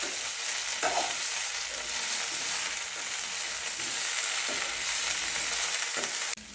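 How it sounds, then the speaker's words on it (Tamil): Okra sautés in oil for Chettinad vendaikai mandi, a steady close sizzle of frying with occasional stirring scrapes, loud and continuous with no talking. "நாங்கள்லாம் விசேஷத்தில் இது நல்லா இந்த எண்ணெயிலே வதக்கிடுவோம்"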